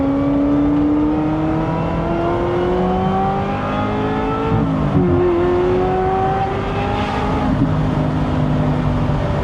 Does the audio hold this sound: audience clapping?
no